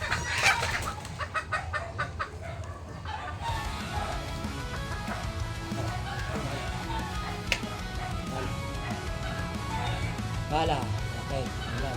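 A chicken clucks in short bursts near the start, mixed with outdoor noise and people talking around it.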